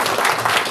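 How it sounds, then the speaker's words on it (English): An audience breaks into dense applause to welcome speaker Chris at a session, a steady wash of many hands clapping at once with no voices over it. "Let's give Chris a round of applause"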